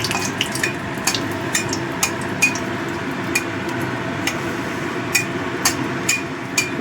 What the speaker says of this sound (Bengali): শুকনো লঙ্কাটা একটু ভেজে নেব।